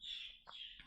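Pet parakeets squawk and chirp faintly in a quiet indoor room, a few short harsh calls over a continuous high twittering, with no talking.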